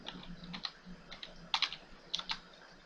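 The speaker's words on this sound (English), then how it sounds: "we need to type in fdisk" Bursts of quiet keystrokes on a computer keyboard, in short uneven clusters with a few sharper key presses, close and alone in a quiet room.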